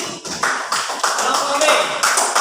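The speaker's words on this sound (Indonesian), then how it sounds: "tepuk tangan untuk kelompok A" Classroom of elementary school pupils clapping for a group, a dense run of hand claps in several bursts, fairly close and lively, with voices mixed in.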